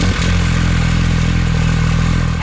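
A big-turbo Cummins diesel truck with a G56 transmission runs steadily at a low, throbbing idle. A brief clunk is heard near the start, and the engine drone stays close and loud throughout.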